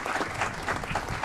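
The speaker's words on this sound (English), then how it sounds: "Another round of applause to Anthony Garcia" Applause fills a city council meeting room during a Mayor's Award of Excellence presentation, a steady dense patter of many hands clapping at moderate loudness with no talk over it.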